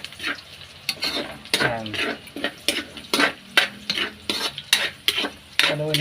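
Onion and garlic sautéing in a pan for pancit canton, with a crackling sizzle broken by repeated clanks and scrapes of a spatula against the pan, close by, under a short spoken remark.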